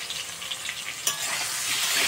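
Potatoes fry with turmeric in a pan, giving a steady close sizzle broken by scraping stirs and a sharper stir-clatter partway through; no one speaks.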